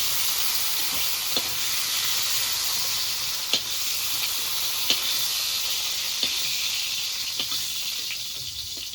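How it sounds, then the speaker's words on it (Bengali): Pointed gourd (potol) slices fry in hot oil, giving a steady, close hiss and sizzle throughout with a few sharp clicks from stirring, and no one speaking. "তো দেখো বন্ধুরা পটলগুলো ভাজা হয়ে গেছে দেখো কি সুন্দর ভাজা হয়েছে"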